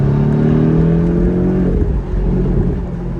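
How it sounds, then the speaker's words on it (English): A 2018 Porsche 718 Boxster fitted with an aftermarket exhaust revs loud and close from inside the car, its tone climbing and then easing off into a deep, rumbling idle. "we're in a 718 Boxster with a nice exhaust system."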